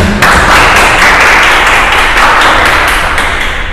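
An audience claps loudly and close by in a brisk, even rhythm of dense bursts for a few seconds.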